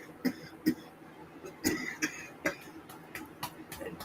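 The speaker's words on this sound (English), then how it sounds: "Damn coughing shit." A man coughs repeatedly after coffee went down the wrong way, a series of sharp, close coughs and throat clearings spread over a few seconds, with no talk.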